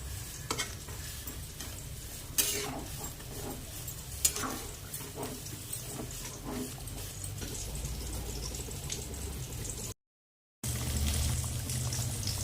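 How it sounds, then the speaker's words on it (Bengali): A spoon scrapes and stirs badam potol, a pointed gourd and peanut curry cooked with milk, in a sizzling pan: irregular close scrapes over a steady fry, with a brief gap near the end. "এটা একটু ভালো করে নাড়াচাড়া করে ঢেকে দেবো।"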